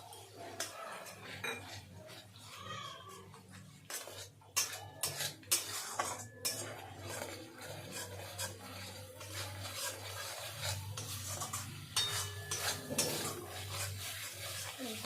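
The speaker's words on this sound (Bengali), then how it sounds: "ভালো করে মশলা কষিয়ে নেব" Spoon stirring spice masala with cashew and melon-seed paste and tomato puree in a pan, soft scraping and occasional metallic clinks over a steady low hum, fairly quiet and continuous.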